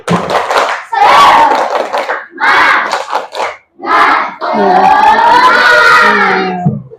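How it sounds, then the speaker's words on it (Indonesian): Classroom of children doing a rhythmic spirit clap chant, loud shouted unison voices in bursts with claps between, building to a longer sustained cheer. "Tepuk semangat."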